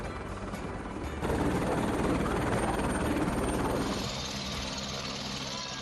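A helicopter's rotor chop and engine drone rise to a loud nearby roar, then ease slightly as it continues, with no speech, at the Panchhi helipad at the Vaishno Devi shrine.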